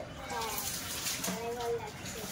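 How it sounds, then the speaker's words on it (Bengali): Tap water runs steadily into a sink as spice containers are washed in a home kitchen, a continuous splashing flow with faint clinks while someone talks nearby. "সব মশলার ডিবাগুলো আপনি বসে বসে ধুয়ে দিন।"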